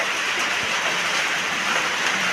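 Heavy rain pours steadily during a downpour, heard from under a roof as a dense, even hiss with no breaks.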